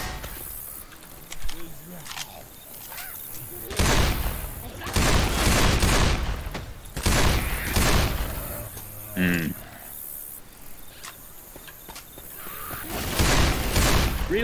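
Rapid gunfire rattles through Left 4 Dead 2's Dark Carnival level, in loud repeated bursts with pauses between volleys, while players talk over the shooting.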